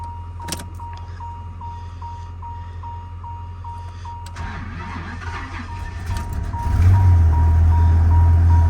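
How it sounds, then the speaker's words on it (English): A Dodge truck with an 8.0 V10 cold-starts after a chime beeps repeatedly at a steady pace; the engine cranks, catches and settles into a loud, deep, rumbling idle close by. "I'm gonna go ahead and show you guys cold start on this one quick"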